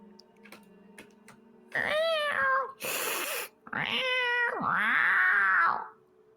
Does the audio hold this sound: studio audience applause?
no